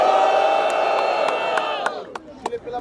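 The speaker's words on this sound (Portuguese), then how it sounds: "Barulho só pra quem achou que foi Xulia" A rap battle audience at Batalha do Coliseu cheers and yells loudly in a sustained roar that fades near the end, broken by a few sharp claps and shouts.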